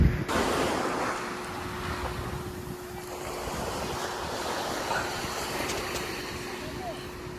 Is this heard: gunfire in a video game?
no